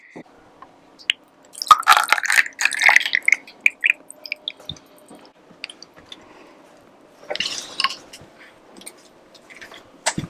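Popsicle mixture poured from a container into molds, with wet drips, squishy splashes and light clinks in two short bursts separated by quiet, heard close up with no talking.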